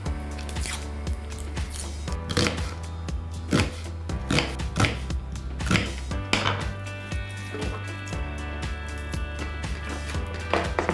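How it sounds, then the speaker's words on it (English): A kitchen knife cuts carrots and onion for sweet and sour chicken, a series of crisp, uneven chops on a board, some in quick bursts and some spaced apart, close and clear with no talking. "I'm putting in peppers and slicing some carrots and some onion."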